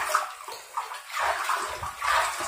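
Iron-rich groundwater being stirred in a container, giving uneven sloshing and swishing in several close bursts with brief pauses between them.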